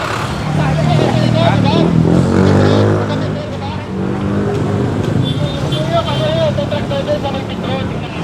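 A taxi pulls away in a busy Pasay street during an MMDA clearing operation. Its engine revs and rises loudly at first, then settles into steady traffic rumble while people talk nearby throughout.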